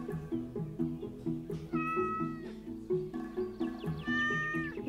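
Cat meows from Minecraft, repeated clear mewing calls rising over steady background music with layered tones throughout.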